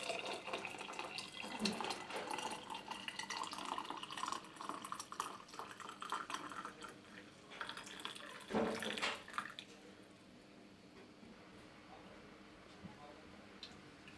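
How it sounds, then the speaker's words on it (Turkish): Hot boiled water poured into glass jars for sterilizing, a close splashing, gurgling flow that fills the jars and then tapers off, with a voice talking over it. "Kavanozlarıma sıcak su kaynamış sıcak su döküyorum steril etmek için"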